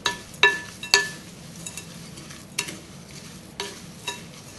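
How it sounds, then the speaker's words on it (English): Dry granola bar ingredients stirred together in a bowl, a few sharp scraping clinks near the start followed by softer intermittent rustling strokes, close and fairly quiet with no talking. "And then what we can do is give it all a stir together."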